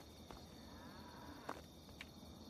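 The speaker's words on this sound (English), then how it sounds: "I heard a distant moo." A cow in the Fallout 3 video game lows once in the distance, faint against a steady ambient background with a couple of brief clicks.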